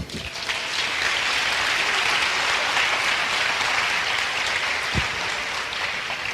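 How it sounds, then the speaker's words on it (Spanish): Sustained, loud applause from a large church congregation, a steady wash of clapping lasting several seconds. "Un fuerte aplauso al Señor"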